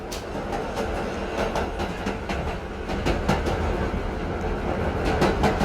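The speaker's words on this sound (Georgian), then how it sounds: "ვაი. მატარებელი." A train passes close by with rhythmic clattering of wheels over rail joints, a dense rolling rumble that swells slightly louder partway through.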